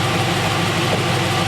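A 5.7 LS1 V8 with 799 heads, a Z06 cam and full 3-inch Hooker headers idles loudly and close, a steady heavy rumble with a slightly choppy pulse.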